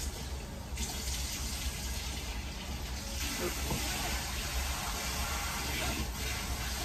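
A kitchen tap runs steadily while dishes are washed, a continuous close splashing rush of water that shifts slightly as items move under the stream, with no speech.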